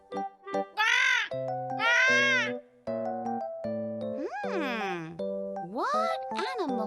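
Bird calls of a clever talking parrot: a run of close, loud squawks and whistled notes, some held and some sliding up and down, with short gaps between bursts.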